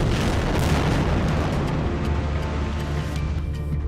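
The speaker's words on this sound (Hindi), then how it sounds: "इजरायल के तूफानी हवाई हमलों में बमों के धमाके ऐसे इमारतों को उड़ा रहे हैं" Bomb explosions from Israeli airstrikes on buildings in Gaza make a continuous, loud, rumbling roar with deep low boom and debris noise, close and dense without a break.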